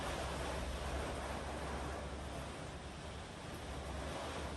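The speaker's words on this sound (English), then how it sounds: "the rain that's going on out there. It's pouring." Heavy rain pouring outside, a dense, steady hiss with a low rumble underneath, constant and unbroken, heard alone without talk.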